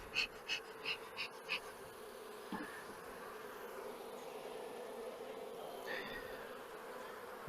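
Honey bees buzz around a nuc hive, a steady insect drone running through the whole stretch with a few short, louder passes close by near the start and no voices.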